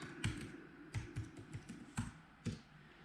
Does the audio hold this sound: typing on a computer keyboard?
yes